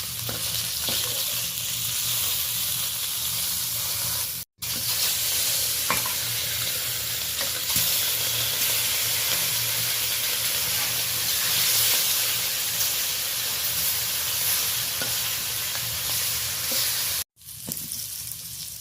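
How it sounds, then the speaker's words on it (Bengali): Loud, continuous sizzling of fish heads frying in hot oil, a steady crackling hiss with two brief breaks. "এইভাবে লালচে করে মাথাগুলোকে বেশ ভালো করে ভেজে নিলাম।"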